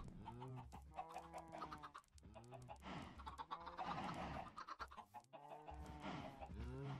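Minecraft chickens cluck over and over, a busy overlapping chorus of short clucks and squawks from several birds, close and steady.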